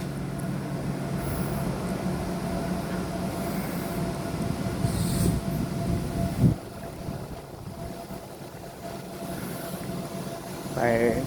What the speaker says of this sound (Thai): นี่รถไฟไปสายตะวันออก